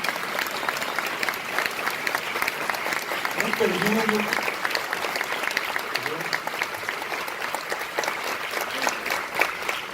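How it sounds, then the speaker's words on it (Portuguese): A lecture audience welcomes a University of São Paulo professor with sustained, dense applause, and someone speaks briefly over the clapping. "a quem eu quero receber com uma grande salva de palmas"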